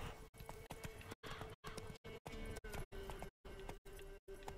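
Steady clip-clop of horse hooves on the ground in the video game The Witcher 3: Wild Hunt, evenly paced trotting steps, close and clear with no talking.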